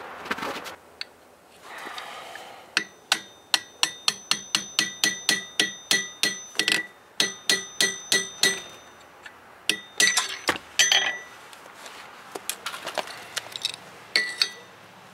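A punch is struck repeatedly through a coin with a hammer, bright metallic clinks in a rapid series of about twenty hits, then a pause and a few scattered heavier taps, close and clear.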